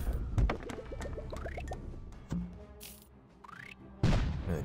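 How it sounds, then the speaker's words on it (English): Cannon fire in the Cannon Brawl video game: several sharp booming blasts, one near the start, one mid-clip and a loud one near the end, mixed with game effects and short rising whistles. "Another cannon going."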